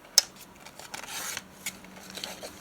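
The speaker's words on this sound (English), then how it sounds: "Let's cut this off right in about here." Scissors snip through paper for a junk journal, with a sharp close cut at the start followed by softer scattered cuts and paper rustling, all quiet and without talk.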